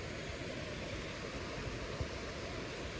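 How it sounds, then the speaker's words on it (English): Waterfalls in the Ordesa mountains, with water tumbling off rocks all around a hiking campsite; a steady, faint, even rush of falling water with no talk and no pauses. "I'm surrounded by waterfalls and I'm gonna sleep in the middle of it."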